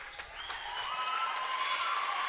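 Crowd at a North Dakota girls' basketball game, Lisbon vs Oak Grove, applauding a substitute coming in, steady moderate clapping in the gym that builds and holds throughout.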